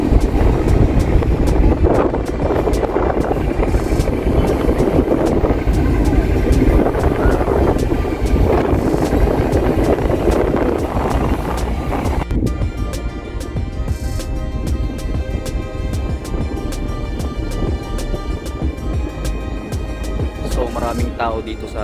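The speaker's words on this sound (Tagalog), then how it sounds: "malakas ang hangin dito sa taas" Strong gusting wind buffets the microphone at a high lookout, a constant rough roar with rumbling bursts, while voices talk throughout.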